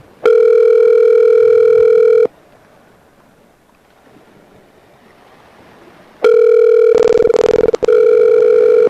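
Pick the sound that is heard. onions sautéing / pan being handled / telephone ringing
telephone ringing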